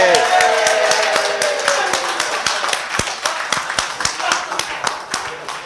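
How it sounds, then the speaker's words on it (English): Audience applause at a live Sunday afternoon conference session, a dense wash of clapping that starts loud and gradually thins into scattered, sharper individual claps, with some voices mixed in. "We'll give him a round of applause when he comes back."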